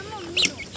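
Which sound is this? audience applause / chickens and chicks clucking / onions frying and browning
chickens and chicks clucking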